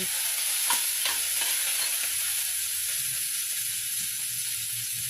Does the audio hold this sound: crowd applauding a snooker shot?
no